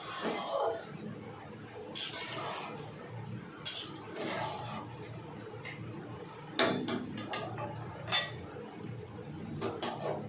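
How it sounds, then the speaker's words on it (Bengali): Mutton is stirred in a cooking pot, with a metal spoon clinking and scraping against the pot in irregular bursts and a low simmering background. "এবার ভালো করে নেড়ে চেড়ে নিতে হবে।"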